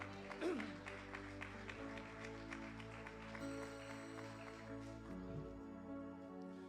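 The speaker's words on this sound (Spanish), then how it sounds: "¿Cuántos pueden aplaudir al Señor en esta hora?" A church congregation applauds together during a sermon, a soft, continuous patter of clapping heard from a distance beneath a steady hum, with a voice briefly rising over it.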